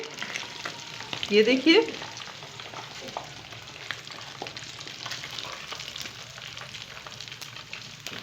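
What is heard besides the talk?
chicken tikka pieces frying in a pan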